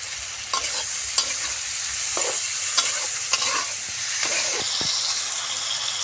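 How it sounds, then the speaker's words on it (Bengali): Fried pointed gourd stirred into potatoes already sautéed with coriander powder in a hot pan, a steady close sizzle broken by repeated scraping strokes of the spatula, with no talking. "আমাদের আলুটা সুন্দর করে কষানো হয়ে গেছে, এখন ভাজা পটলগুলো আমরা দিয়ে দিব"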